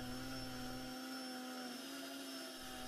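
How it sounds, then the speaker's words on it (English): A drill spins a cap while a rat tail file grinds an O-ring groove into it, producing a steady, loud whirring motor hum with a continuous scraping grind that holds for the full stretch, with no voices. "use a rat tail file to grind a ring as the drill spins"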